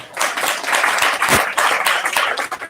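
A church congregation in Varanasi claps together in worship, a dense, steady wash of hand claps filling the room at close range for a few seconds with no voices over it.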